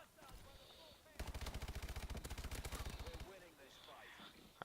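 A KF5 submachine gun fires in Call of Duty Advanced Warfare in one sustained rapid burst of about two seconds, loud and close, with a voice talking before and after the shots.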